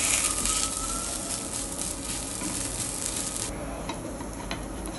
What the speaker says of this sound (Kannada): ಫ್ಲಿಪ್ ಮಾಡಿ ಇನ್ನೊಂದು ಸ್ವಲ್ಪ ಅದಕ್ಕೆ ಫ್ರೈ ಮಾಡಿ.